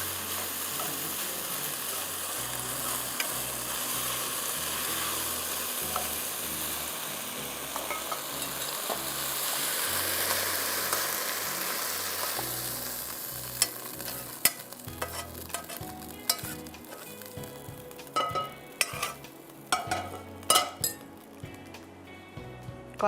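A quarter cup of Italia pomace olive oil sizzles in a pan for Young Chow fried rice, a dense, steady hiss that thins toward the end, where metal utensil clinks and knocks break in. No one speaks.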